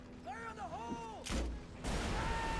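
Whistling electronic tones give way to two heavy, booming blasts from the video game Mercenaries: Playground of Destruction, the second rolling into a sustained rumble.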